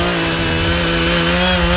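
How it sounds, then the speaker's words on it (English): A chainsaw runs steadily and loudly up close, cutting through big fallen trees blocking a hiking trail during volunteer trail clearing, one continuous engine drone with no voices over it. "so they're sawing the big stuff"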